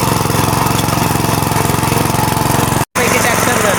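A tractor engine runs close and loud in a village farm setting, a steady chugging drone with a brief dropout near the end.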